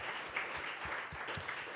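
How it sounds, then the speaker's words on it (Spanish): Church congregation applauding a preacher, a steady wash of clapping at moderate level with a few louder individual claps, no talk over it. "Denle un aplauso al dador de la palabra de Dios."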